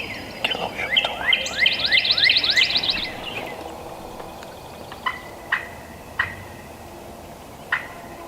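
A wild turkey gobbles loudly outdoors in a rapid rattling burst during turkey season, followed by a few sharp, clipped bird calls spaced out against quiet background.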